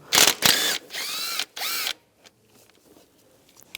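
A power tool with a 10mm socket backs out a screw on a 1998–2010 Volkswagen Beetle speed sensor, three loud bursts of whirring close up, then quiet clicks and handling noises.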